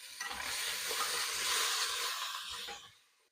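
Thyme leaves stirred into a hot skillet of sizzling herbs for a garlic shrimp ratatouille, a steady close frying hiss with soft scraping stir strokes throughout, fading out at the end.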